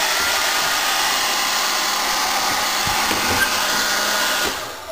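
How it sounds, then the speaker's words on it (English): A hair dryer blows with a steady, loud whooshing whir for several seconds, then cuts off abruptly at the end. "Hair dryer."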